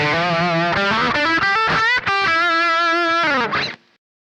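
A Stratocaster's bridge pickup alone runs through a treble booster into a Vox MV50AC amp, playing a few bright, sustained overdriven notes and bends that cut off sharply near the end.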